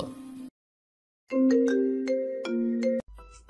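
An electronic ringtone melody of steady tones plays loudly for a couple of seconds after a brief silence, then cuts off.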